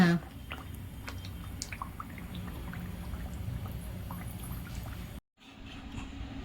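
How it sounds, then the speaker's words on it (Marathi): Melted jaggery syrup is poured into a methi laddu mixture in a home kitchen, a soft trickling and dripping with faint clicks, close and quiet, cutting out briefly near the end. "आता मी सर्व हा पाक यात ओतून घेते."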